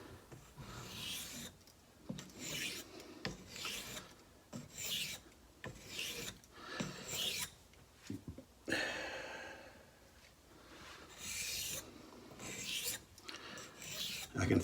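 A Wade & Butcher straight razor is stroked back and forth across a sharpening stone in a steady rhythm of quiet, close rasping passes, with no talking.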